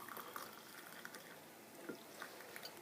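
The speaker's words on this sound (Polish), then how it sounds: "Zalewamy to teraz wrzątkiem," Freshly boiled water is poured over dried hibiscus tea (karkade), giving a soft, quiet trickle and splash that runs continuously for a few seconds.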